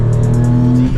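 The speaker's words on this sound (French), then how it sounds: "bah évidemment ça patine, ça patine. La deuxième ça patine aussi." A Hyundai Tuscani with a stage IV tune spinning its wheels as the tires lose traction, a loud, steady engine roar under hard acceleration, with a pulsing squeal on top throughout one second.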